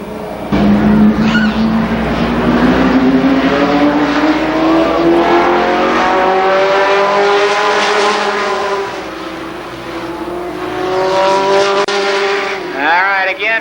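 Midget race cars howl around the Columbus Motor Speedway oval, a loud engine note climbing and sweeping past, with tire squeal near the end, under an announcer's steady commentary.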